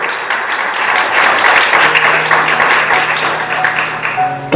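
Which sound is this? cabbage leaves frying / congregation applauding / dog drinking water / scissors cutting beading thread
congregation applauding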